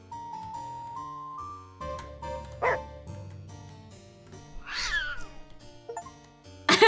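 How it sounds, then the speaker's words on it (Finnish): Inside the video game Murder is Game Over: Streaming Death, a cat meows with soft, whiny cries over steady background game music, with no talk over it. "Pet the cat."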